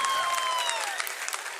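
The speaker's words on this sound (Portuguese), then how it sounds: "uma salva de palmas para o nosso juiz," Brief, steady applause from a church congregation greets a volunteer judge named Pedro, with a faint high tone gliding across the top as the clapping continues.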